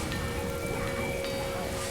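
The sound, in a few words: heavy rain pouring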